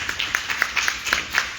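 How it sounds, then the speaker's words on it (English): Scattered clapping from a small audience at a community gathering honoring police officers of the 71st Precinct, a few irregular hand claps rising over steady background room noise. "Please give them a round of applause."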